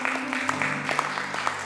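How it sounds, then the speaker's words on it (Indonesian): A congregation at a Christmas church service applauding God, steady close clapping in a brisk rhythm over a low sustained hum. "Tepuk tangan untuk Tuhan."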